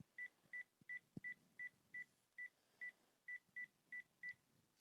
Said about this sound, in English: Every time you pressed a button, it made a sound. It beeped.